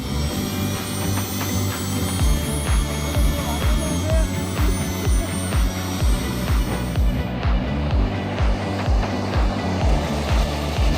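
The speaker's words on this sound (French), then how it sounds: "en installant un moteur à réaction sur un vélo" Jet engine fitted to a bicycle, a loud continuous roaring whine running throughout with a rhythmic pulsing thump underneath, the high hiss easing off toward the end.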